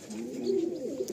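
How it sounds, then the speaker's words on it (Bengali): A pair of young home-bred pigeons coo softly in a steady, close, continuous run of low throaty calls with no talk. "এই পায়রা দুটো ঘরেরই বাচ্চা পায়রা।"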